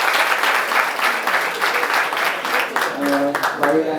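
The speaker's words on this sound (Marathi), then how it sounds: "त्यांच्यासाठी एकदा टाळ्या वाजवूया आपण" Sustained applause from an audience at a road safety awareness event in a college hall, steady dense clapping throughout, with a few voices rising near the end.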